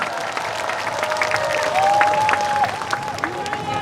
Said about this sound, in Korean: 다시 한번 큰 박수 부탁드립니다, 여러분